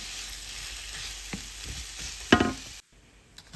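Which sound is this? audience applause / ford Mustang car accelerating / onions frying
onions frying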